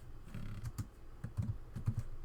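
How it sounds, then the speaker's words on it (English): Computer keyboard being typed on at a desk, a quiet run of soft, uneven key taps and clicks picked up faintly through a nearby microphone, with no talking. "Probably can hear my clicking through the mic."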